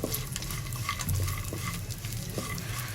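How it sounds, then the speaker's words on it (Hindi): Twenty-five grams of cashews fry for a minute for suji halwa, giving a close, steady sizzle with a spoon stirring and scraping through it in uneven strokes. "25 ग्राम काजू हैं। ये डालेंगे। इनको 1 मिनट तक फ्राई करेंगे"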